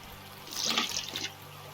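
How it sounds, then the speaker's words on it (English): Water pouring into tubs in Gold Rush The Game, a short splashing gush that swells and fades over about a second, faint and alone against a quiet background. "I want to fill all these guys up with water"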